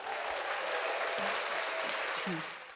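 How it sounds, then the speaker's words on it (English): Audience applause for Joanna after her book talk on a love-stories show, a steady dense wash of clapping at moderate level that tapers off at the end, with faint voices underneath. "Round of applause for you."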